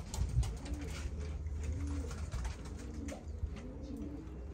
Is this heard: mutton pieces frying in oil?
no